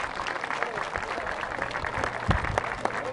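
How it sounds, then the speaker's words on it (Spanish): Audience applause for actors after a theatre performance of the play Batalla de Bomboná, a short burst of dense clapping mixed with crowd noise and a voice speaking over it. "Un aplauso para nuestros actores."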